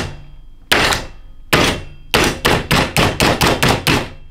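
A Slap Chop plunger chopper repeatedly slams down on a thick king-size Hershey chocolate bar, giving loud, sharp percussive whacks: two spaced strikes, then a rapid run of about eight evenly paced chops.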